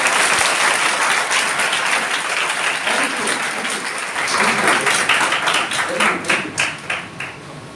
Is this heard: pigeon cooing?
no